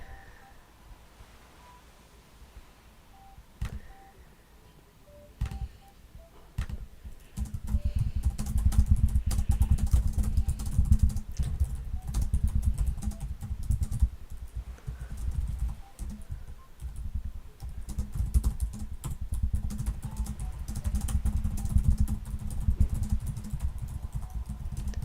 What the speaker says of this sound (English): I'm just gonna type a goodbye so you may hear some typing.